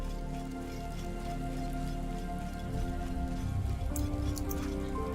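Steady rain falls in the Valiant Hearts 2 video game, a constant dense patter layered with soft musical tones and a low rumble, and a few bright chimes near the end.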